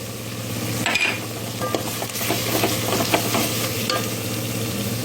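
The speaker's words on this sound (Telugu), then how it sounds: "ధనియా పొడి గరం మసాలా చికెన్ మసాలా మిక్స్ వేసి బాగా నూనెలో వేయించాలి" Chilli powder, coriander powder, garam masala and chicken masala frying in oil and ghee for a mushroom biryani masala: a continuous close sizzle broken by repeated stirring scrapes of a spoon in the pan, with no speech.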